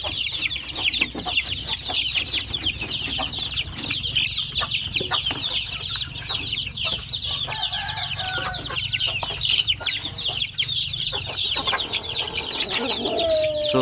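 Month-old Basilan and Zampen native chicken chicks cheep steadily in a dense, continuous chorus, with occasional clucks from nearby fowl, close and fairly loud with no talk.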